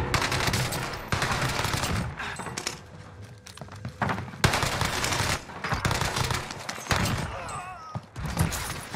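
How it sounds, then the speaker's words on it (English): Rifle fire in a video game gunfight, including DMR shots, heard as repeated sharp bursts and single cracks across a noisy firefight, fairly loud and close. "Who just shot a DMR?"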